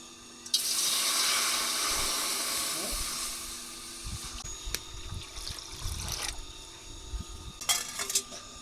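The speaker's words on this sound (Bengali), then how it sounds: "কড়াইতে জল দিয়ে দেব" Water pours with a broad hissing rush into a wok (kadai) while cooking an eggplant curry, starting abruptly and fading over a few seconds, followed by light clinks and clatter of utensils.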